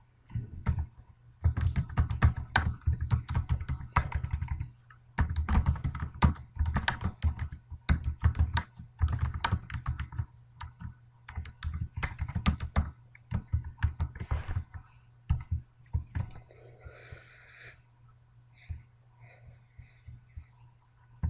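Typing PHP code on a computer keyboard, bursts of rapid close key clicks with short pauses over a low steady hum, tapering to sparse taps near the end.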